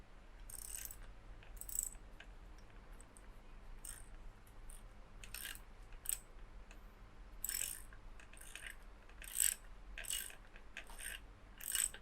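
Ratcheting clicks from a bottom bracket tool being turned clockwise to unscrew the right-hand cup of a square taper bicycle bottom bracket, coming in quiet irregular bursts over a low hum.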